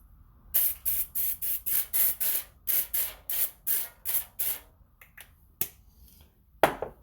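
Quick bursts of hissing cooking spray onto a baking pan, about a dozen short evenly spaced spritzes, then a few scattered ones, close and crisp.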